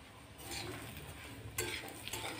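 Red chili-garlic chutney roasts in hot oil over low flame, a soft continuous sizzle with light stirring scrapes and a couple of louder spatula knocks.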